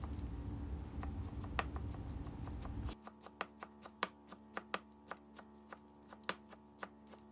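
Shallots and onions sliced with a knife on a board, a quick series of crisp, close taps in an irregular rhythm, first under a louder background noise that then drops away, leaving the cuts clear in a quiet room.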